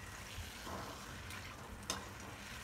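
Puri frying in hot oil, a quiet steady bubbling sizzle with a couple of sharper pops and crackles, no talking.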